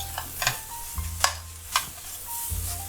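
A spoon stirs mustard in a hot pan with quick scraping strokes. Soft sizzling runs underneath, and there are a few sharp clinks and knocks against the pan. No voices are heard.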